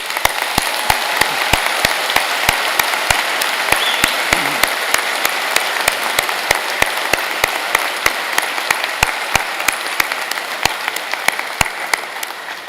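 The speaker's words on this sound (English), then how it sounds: "join me and the platform party in thanking them with a vigorous" Steady, vigorous applause from a large audience at a spring university convocation for arts graduates at U of T Mississauga, dense clapping sustained throughout with no talk over it.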